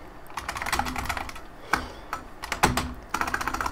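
Fingers type rapidly on a computer keyboard, with clustered bursts of crisp key clicks and a few heavier strokes, like the space or enter key, close and clear with short pauses between runs.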